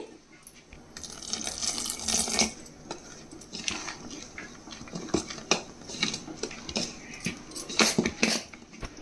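Water added to fermented jowar rava idli batter in a vessel, with splashing and repeated clinks and scrapes of a spoon against the container as it is mixed, close and irregular.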